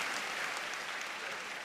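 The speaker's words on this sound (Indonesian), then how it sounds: "Tepuk tangan untuk Bung Karno yang telah memproklamirkan itu." Applause from an audience at an Indonesian Independence Day (77th anniversary) gathering honouring Bung Karno, a brief, even wash of clapping at moderate distance, fairly faint and steady throughout.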